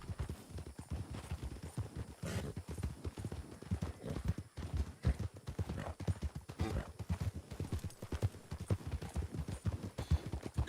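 A ridden horse's hooves clip-clop steadily in a roleplay video game, a continuous, fairly close rhythm of hoofbeats with no talk over it.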